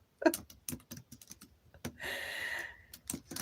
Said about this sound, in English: I'm typing that in here.